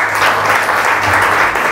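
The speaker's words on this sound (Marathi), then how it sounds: "या स्वतःसाठी टाळ्या वाजवा जरा" An audience at a church sermon claps together in a short, dense burst of applause.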